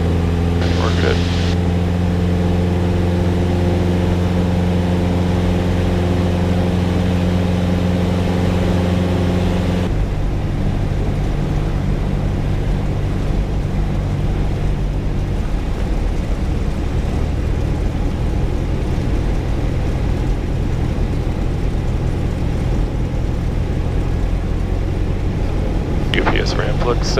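Steady droning aircraft engine noise heard from inside a cockpit on approach to Ontario airport, a constant loud hum with tonal whine that shifts partway through and persists throughout.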